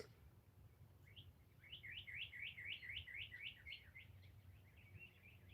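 A single cardinal repeats a quick series of bright, slurred chirps, about a dozen in a row, fairly close over a low outdoor hum, then trails off.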